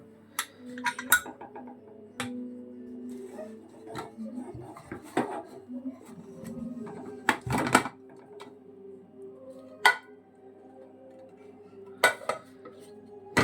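Metallic clanks and clatters of a pressure cooker lid being handled after cooking ghee rice, with scattered sharp knocks and scraping at close range, no voices.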